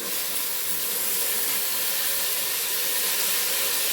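Ginger garlic paste and tomatoes sautéing in a pan for mutton biryani, a steady loud hissing sizzle that holds even throughout, close and with no talk.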